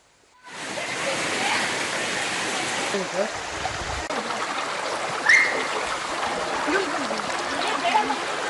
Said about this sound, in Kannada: ಇತ್ತೀಚೆಗೆ ಸುರಿದ ಮಳೆಯಿಂದಾಗಿ ಅಂತರಗಂಗೆ ಬೆಟ್ಟಗಳಿಂದ ಜಲಪಾತಗಳು ಪ್ರಶಾಂತವಾಗಿ ಹರಿಯುತ್ತಿದ್ದು